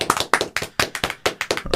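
Hands clapping in a quick, uneven burst of about a dozen sharp claps, close and crisp, with no talking, in a small podcast recording room.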